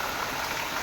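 Heavy rain with wind pours down on a village on a cloudy day, a dense, steady hiss that fills the whole moment with no voices.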